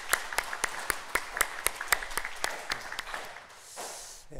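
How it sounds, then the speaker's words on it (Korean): A church congregation claps together in a sustained round of applause during a Sunday morning service, sharp hand claps ringing out steadily for a few seconds before fading. "하나님께 영광 돌리는 박수로 하나님께 영광 올려드리겠습니다."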